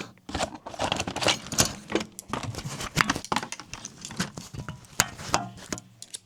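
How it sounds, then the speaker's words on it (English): Scissors snip and crinkle through a 4x4 silicone foam wound dressing with its cotton batting, producing close, irregular cutting crunches and rustles at a soft level. "Let me cut that open."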